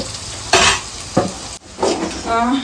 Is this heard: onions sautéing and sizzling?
yes